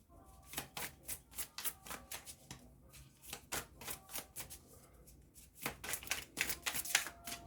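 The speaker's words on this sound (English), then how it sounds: "Shuffle one more time." Tarot cards are shuffled by hand in quick, crisp bursts of riffling and snapping, close and fairly quiet, with short pauses between runs and no talking.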